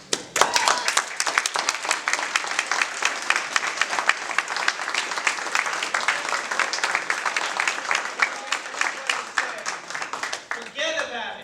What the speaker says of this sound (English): I can't leave without you guys giving this guy a round of applause